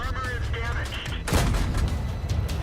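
A tank cannon firing in World of Tanks, with a sharp loud blast around the midpoint followed by a rumbling decay, set over steady game engine noise and faint tonal effects.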